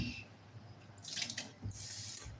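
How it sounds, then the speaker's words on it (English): Water pours and splashes into beans in a blender jar in a home kitchen, two short bursts of running water close by, with no talk. "So I will just add water to the level, middle, not level, sorry, to the middle of the beans."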